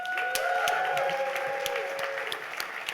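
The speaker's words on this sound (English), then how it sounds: "everyone give a huge round of applause to all the contestants" An audience at an AdTech Jeopardy game at a conference applauds the contestants, with steady, fairly close clapping under lingering musical tones.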